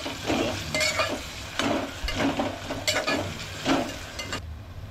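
A large chopped onion and five green chillies fry in a pan for veg pulav, with a steady sizzle and rhythmic scraping stir strokes at close range, no voices.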